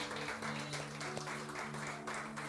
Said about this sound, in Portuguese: Se você pode aplaudir, aplaude o Senhor